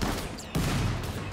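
Rocket launcher fire in Rimworld, a dense crackling burst of gunfire-like blasts with a sharp renewed surge midway, loud and continuous for over a second with no voices.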